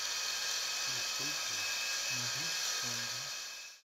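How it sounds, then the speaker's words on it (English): A fillet weld sander fitted with a fleece disc runs steadily over stainless steel weld beads, giving a continuous high, whining grind with faint lower tonal wobble, close and loud, alone, before cutting off at the end. "Move the fillet weld sander at a slow speed over the welding beads."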